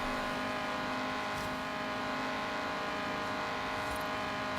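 A car engine in Forza Horizon 3 drones steadily at high revs throughout, with a strong sustained tone and no pauses in the engine note.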